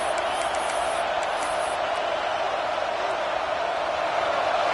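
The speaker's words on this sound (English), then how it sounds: "Decibels rising as the crowd gets behind this defense on 3rd down." Stadium crowd noise swells in a college football video game, Alabama vs Arkansas, a steady broad roar of cheering fans rising on third down, continuous and dense throughout.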